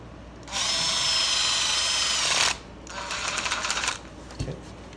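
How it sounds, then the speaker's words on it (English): A power tool whirs steadily for about two seconds while tightening the intake manifold clamp on a Suzuki Ozark 250 carburetor. A shorter, rougher burst follows, then a single faint clunk. "Now we'll tighten the manifold clamp down."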